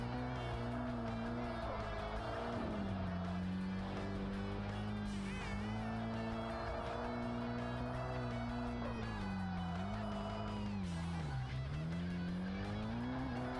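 Continuous engine drone from a car in a Japanese touge mountain-pass racing video game, with tyre squeal and skidding as it drifts through handbrake turns. The pitch rises and falls with each corner, steady and loud for the whole stretch, with no voice over it.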